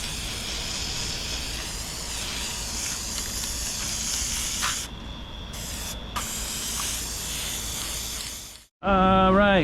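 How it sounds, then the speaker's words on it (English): An air conditioner runs as a steady, loud broadband hiss and roar that fills most of the stretch and briefly dips twice, then cuts out as a voice begins speaking at the end. "sorry about the air conditioner noise"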